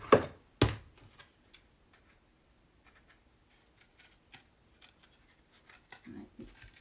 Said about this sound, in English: And then just cut it with your scissors.